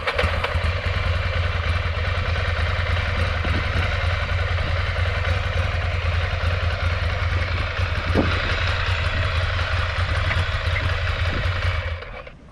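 A motorcycle engine runs steadily and loud with a low, even throb and some mechanical clatter, close by for about twelve seconds, slowing near the end as the bike creeps forward under its own power without throttle.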